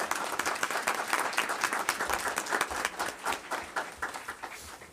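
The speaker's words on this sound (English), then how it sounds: "Would y'all give them a round of applause?" Audience at a school district board meeting giving a round of applause, many hands clapping in a continuous, moderately loud roomful of claps with a slightly rhythmic pulse.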